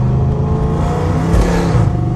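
Dodge Charger SRT with its catalytic converter deleted, revving loudly up close with a deep, steady, heavy exhaust roar full of low rumble that holds throughout without a break, and no voices over it.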